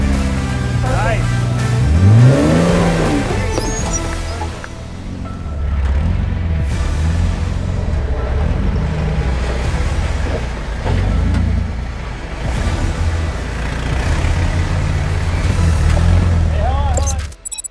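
An off-road vehicle engine revs and labors as it crawls up a trail in Logandale, Nevada, a loud close rumble rising and falling throughout, with people talking over it at times.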